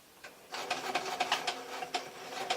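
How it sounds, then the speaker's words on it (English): A sewing machine reverse stitching a permanent straight-running seam through thick fabric for a tablet sleeve, giving a close, steady run of mechanical whirring with short rhythmic bursts and brief pauses as it backs up. "Obviously this machine's quite happy with thick fabric, so this is a permanent seam, so I'm going to just do a little bit of reversing."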